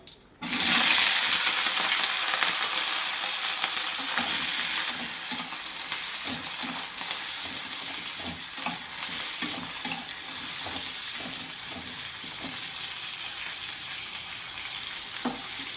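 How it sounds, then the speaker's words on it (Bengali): Vegetables frying in a pan with panch phoron and green chillies, a steady broadband sizzle that is loudest in the first few seconds, then continues slightly softer with occasional stirring clatter, close and without speech. "এই সবজিগুলো একটু ভাজা ভাজা হোক।"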